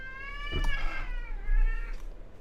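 An indoor pet cat lets out a close, loud meow that rises and falls and is followed by a second whining meow, all over a low steady room hum with no talk.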